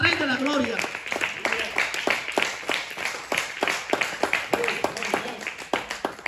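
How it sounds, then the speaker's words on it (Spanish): A church congregation applauding: a steady run of sharp, fairly loud hand claps in an even rhythm, with voices talking and calling out over them throughout. "Denle ofrenda de palmas al Rey de la Gloria."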